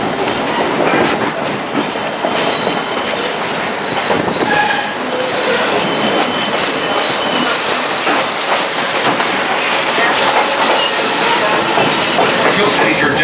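1880 Train, a steam train near Hill City, South Dakota, rolling along its rails with continuous loud rumble, clicking wheels and occasional squeals, heard close from aboard the train.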